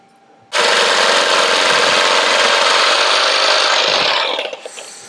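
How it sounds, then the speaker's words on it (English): A jigsaw cuts through a competition car dash panel, one loud, close, continuous buzzing run of about four seconds that starts abruptly and trails off at the end. "If you use the jigsaw really slowly, it's quite easy to cut through, to be fair."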